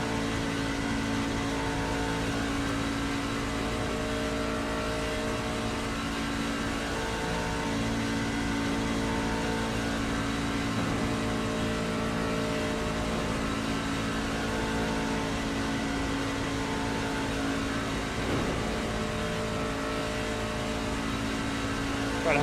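Racing truck engine at a NASCAR Craftsman Truck Series race at Daytona, a steady loud drone that rises slightly as it picks up speed, continuous throughout with no talk.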